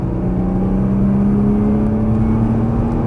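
A Nissan GT-R engine drones loud and steady on a race track, its pitch rising slowly as the car accelerates out of a corner, heard from inside the cabin.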